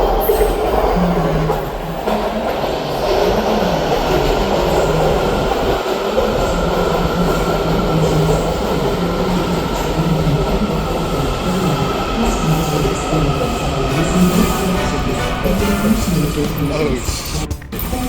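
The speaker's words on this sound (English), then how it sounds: "Here comes the blue line." A Washington DC Metro Blue Line subway train pulls into King Street–Old Town station with a loud, steady rumble of wheels on rail, thin metallic squeals drifting over it and a brief clunk near the end.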